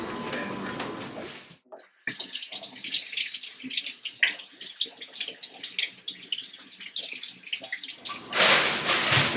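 Tap water runs into a sink while two potatoes are washed, a steady broadband splashing that pauses briefly near the start and then resumes, close and fairly loud, with small knocks and clatter from handling; no talk.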